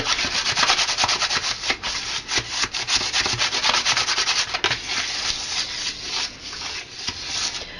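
A little stiff butter is rubbed by hand around the edges and corners of a pan while making homemade fudge, giving close, steady scrubbing strokes in a quick continuous rhythm with no talking.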